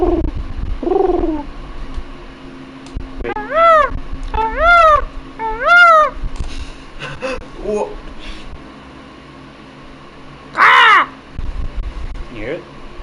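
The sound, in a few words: person imitating bird noises into a microphone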